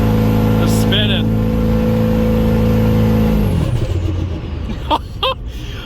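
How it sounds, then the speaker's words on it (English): A 6.0 Powerstroke diesel truck with a non-VGT S369sxe turbo held at full throttle, engine droning steadily and loud before dropping off, with a tire spinning against the ground and brief voices near the end. "This thing is just cooking that tire."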